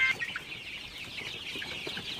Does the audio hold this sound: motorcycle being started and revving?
no